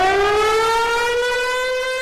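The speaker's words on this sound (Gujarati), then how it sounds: "મોક ડ્રીલ વખતે સાયરન વાગશે." A civil defense air raid siren sounds for a nationwide mock drill, a loud, steady wail holding one pitch and sliding slightly upward, alone with no voices.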